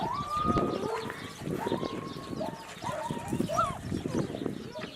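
Several dogs bark and yelp close by in quick, overlapping bursts, with some background clatter.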